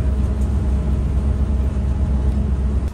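A bus to Lake Toya rumbles along a mountain road, its engine a steady low drone with constant road noise heard from inside the cabin, loud and unbroken.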